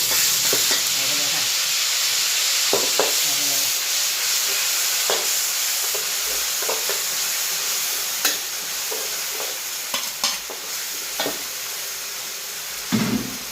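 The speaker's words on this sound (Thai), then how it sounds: "เสร็จแล้วก็เอาน้ำพริกเมื่อกี้ที่เราตำหาใส่ลงไปเลยนะคะ" Tamarind chili paste is stir-fried in a pan over medium heat, giving a steady, close sizzle and hiss with scattered scraping clicks from the spatula throughout.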